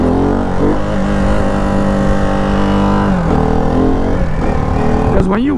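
A Ducati Hypermotard 698 Mono single-cylinder engine revs hard during a wheelie, its pitch climbing and dipping through gear changes, loud and close, with wind noise and a rider talking over it.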